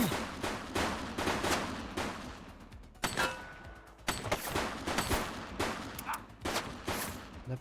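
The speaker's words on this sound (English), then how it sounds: "Shots fired!" Rapid bursts of gunfire crackle through a police shootout in The Precinct video game, dense volleys and sharp single shots loud and close, broken by brief lulls.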